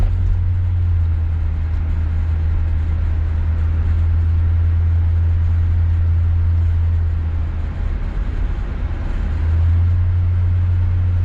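A 1966 Ford Galaxie 500 convertible cruises steadily, its low engine drone and road rumble holding constant and loud throughout, with wind noise on top and no talking.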